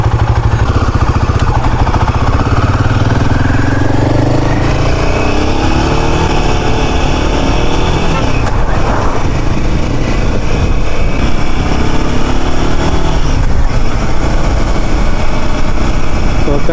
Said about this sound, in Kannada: ಸೊ ಗಾಡಿ ಆನ್ ಮಾಡುವ.